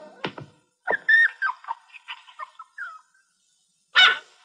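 A dog makes a short series of yips and whimpering barks, followed by a pause and one louder bark near the end.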